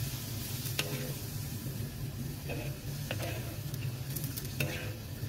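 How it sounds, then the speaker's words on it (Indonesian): Celery stalks are stirred in a pot of boiling salted water with a little oil. Soft scrapes and clinks come at irregular intervals over a steady bubbling hiss. "Kita aduk-aduk."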